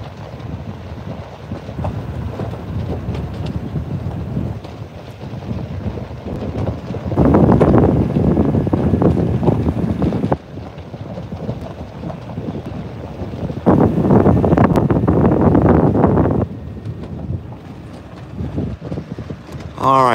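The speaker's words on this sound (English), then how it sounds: "I know it's very windy today." Strong wind blows across a ranch pasture, buffeting the microphone in rumbling gusts that swell loudest around the middle and near the end, with occasional talking underneath.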